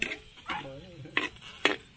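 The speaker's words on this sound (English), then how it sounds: "there he is, stirring up his pork" Pork being stirred in a pan while cooking Filipino pancit, with a few sharp utensil scrapes and clinks against the pot, interspersed with a brief stretch of nearby talking.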